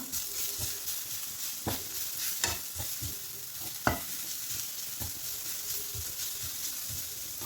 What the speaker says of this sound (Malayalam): കൊഞ്ചൻ ഇവിടെ ഫ്രൈ ആയി വരുന്നുണ്ട്